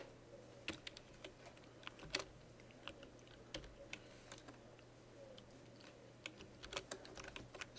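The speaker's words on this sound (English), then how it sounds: "I'm just typing notes" Notes are typed on a computer keyboard in quick, irregular bursts of soft clicks, quiet and close, over a faint steady electrical hum.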